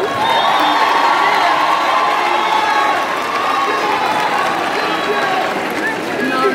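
A large audience applauds and cheers loudly and continuously with whoops and shouts mixed in, a dense, close wash of crowd noise that holds steady for the whole stretch.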